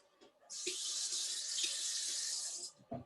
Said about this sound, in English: I'm going to get a fresh spoon, rinse it off,